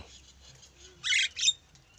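A pet starling kept at a home yard gives two short, bright chirps close by after a quiet stretch of faint background.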